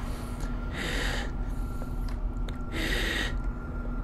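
A game character in the horror game Vanish breathes loudly and close, with two distinct breathy gasps over a constant low background hum.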